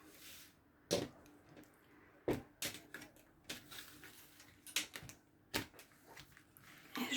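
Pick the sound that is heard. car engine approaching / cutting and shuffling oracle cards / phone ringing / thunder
cutting and shuffling oracle cards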